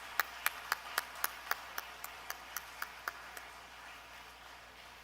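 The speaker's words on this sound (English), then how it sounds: "Let's all invite our beneficiaries, our children, with a big round of applause." Slow, evenly spaced claps at a foundation day celebration for the beneficiary children, about a dozen sharp hits that fade and thin out, fairly faint in a quiet room.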